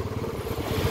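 A motorbike engine hums and rumbles steadily up close during a monsoon ride, a continuous mid-pitched drone with a slight rise in intensity toward the end.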